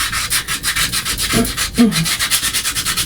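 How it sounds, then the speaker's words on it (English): Steady back-and-forth sanding strokes around the edges of a craft badge, rhythmic and close, a rough scratchy rasp repeating about every fifth of a second. "So I'm just going to sand all around the edges."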